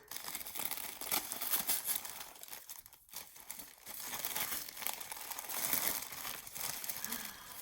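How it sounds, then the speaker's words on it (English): Tissue paper being crinkled and torn open from incoming mail, a close, continuous papery rustling and crackling with brief pauses, fairly quiet throughout. "the tissue paper is gorgeous. And I'm gonna have to tear it, I think."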